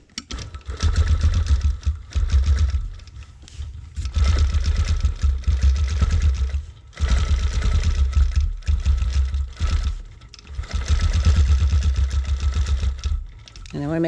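A quilting machine stitches around a client quilt in four long, loud runs of steady mechanical whirring, each separated by a short pause.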